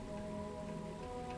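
Rain falls steadily on an alien planet at night in Starfield, a soft continuous patter under a low droning tone and hum, with no talking.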